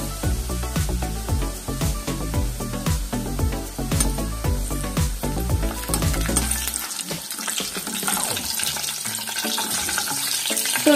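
Sev for Kerala mixture frying in hot oil over a medium flame, a dense bubbling sizzle running throughout, with rhythmic low thumps of a press or utensil in the first half before the frying carries on alone.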